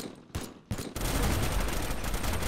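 Gunfire in the video game Teardown, a few scattered shots followed by a dense, continuous burst of rapid automatic fire, loud and close with no talk.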